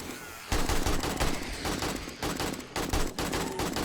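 Rapid automatic gunfire in the zombie survival game 7 Days to Die (Alpha 19), fired while defending a horde base: loud sustained bursts of closely spaced shots with brief gaps between volleys.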